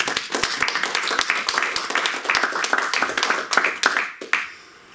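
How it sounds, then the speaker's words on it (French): Applause from an audience welcoming a speaker onto the stage at a lecture event, a dense burst of many hands clapping close by that fades out near the end. "et je vous demande de l'applaudir, Jean-Paul Huette."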